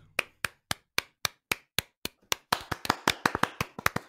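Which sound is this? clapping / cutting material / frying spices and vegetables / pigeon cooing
clapping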